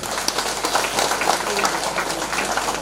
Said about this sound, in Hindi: तालियां बजाओ इनको।